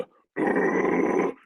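A man imitates a deep, rough growl with his voice, one sustained gravelly burst of about a second after a brief spoken lead-in, close and loud.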